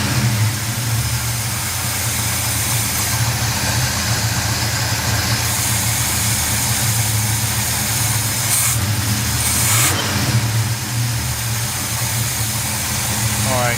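A dually truck's engine fitted with a Quadrajet carburetor runs at a steady idle with a low rumbling drone throughout, a slight rise in revs toward the middle, and a person speaks over it.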